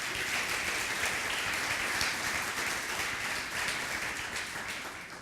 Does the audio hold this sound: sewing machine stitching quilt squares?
no